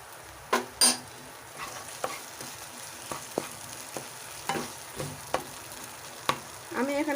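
A paneer filling with raisins and salt is stirred in a pan for potol dorma, a spoon scraping and clinking in irregular strokes over a soft sizzle, with a couple of sharper knocks near the start.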